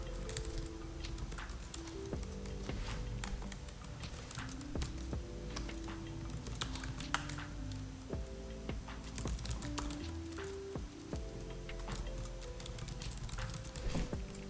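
Keys click steadily on a computer keyboard as a line of code is typed, the taps sitting under continuous background music throughout.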